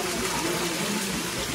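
Cold water flows steadily at Gananath temple in Almora, a continuous close rushing and splashing with no pauses.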